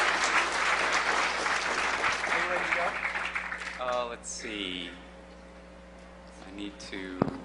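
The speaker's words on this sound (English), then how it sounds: "Give him a round of applause just for his hair." An audience at a hacker conference breaks into applause that swells briefly and then thins out, giving way to someone speaking and a few scattered sounds in the room.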